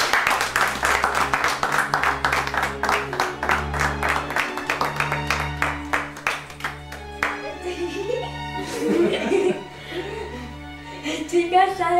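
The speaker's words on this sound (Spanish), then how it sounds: "Un aplauso para José María y Javier." An awards-ceremony audience claps loudly and rhythmically for several seconds, then the applause fades into quieter scattered noise and brief voices near the end.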